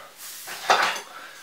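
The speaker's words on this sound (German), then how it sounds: "der Pfannenwender aus Holz, mit dem man quasi in der Pfanne schon den Pfannkuchen rollt und ihn dann drückt." A wooden spatula scrapes and presses a pancake while rolling it in a frying pan, a brief soft scraping swell with a faint sizzle, close and alone.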